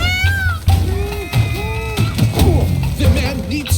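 A cat in The Witcher 3: Blood and Wine meows repeatedly in drawn-out, rising and falling cries, close and clear over low game ambience.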